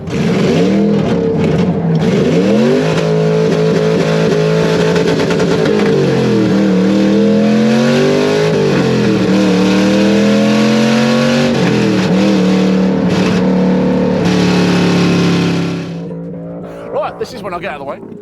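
A loud LS V8 engine in an AC Cobra revs hard and roars continuously, pitch climbing and falling through gear changes, then cuts off abruptly near the end.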